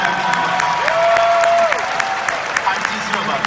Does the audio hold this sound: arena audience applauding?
yes